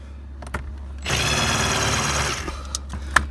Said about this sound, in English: Grab your drill and remove the two screws.